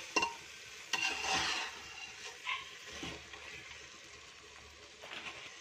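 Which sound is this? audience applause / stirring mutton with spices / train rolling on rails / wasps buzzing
stirring mutton with spices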